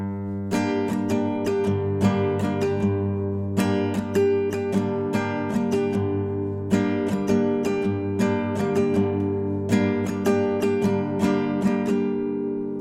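An acoustic guitar plays a song's chords at normal tempo in a repeating strumming pattern, with bass-note hits followed by bright, quick down and up strokes in four similar phrases. It is close and full, with no voice.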